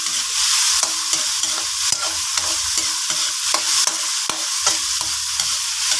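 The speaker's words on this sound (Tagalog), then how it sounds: "halo-haloin lang natin hanggang mag-aromatic ang ating mga pinigisang luya, bawang at sibuyas" A spatula stirs sautéed ginger, garlic and onion in a hot pan, loud close sizzling with regular scraping strokes and sharp taps against the metal, no voices over it.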